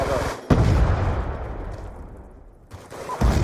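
Grenade blast in a Call of Duty hardpoint match: a loud, sharp boom hits, then rumbles and fades over a couple of seconds, with another burst of gunfire near the end.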